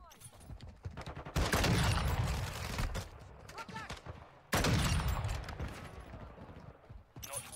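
SPX sniper rifle shots in Modern Warfare on the Shoothouse map, two loud sharp blasts a few seconds apart, each followed by a fading tail over game noise and a faint voice.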